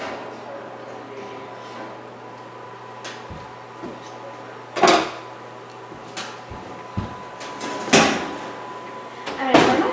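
Home oven door opened to take out a baked mac and cheese: several separate clunks and thumps spread over the stretch, a few louder knocks, over a quiet steady hum.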